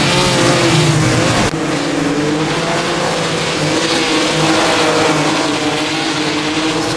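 A Maserati 250F race car howls in a sim racing game on the old Nürburgring, a loud sustained engine drone with shifting pitch and a brief gear-change dip, no talking.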